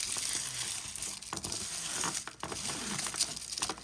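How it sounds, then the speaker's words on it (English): Soft crinkling and rubbing as a cloth wipes across a diamond art canvas, close and quiet, with irregular swishes and faint crackles. "carefully wipe this down"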